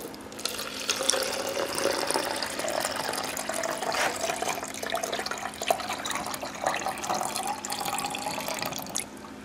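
Water poured by hand into the cooling reservoir of a homemade water-cooled Briggs engine during winterizing: a steady, close splashing trickle runs throughout with small gurgling bumps and no talking.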